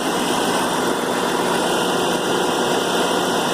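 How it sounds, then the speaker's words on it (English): A freshly overhauled BMW E39 engine idles smoothly and quietly under a steady broadband hum, with no change in pace and no voices. "Engine runs so quiet you can barely hear it."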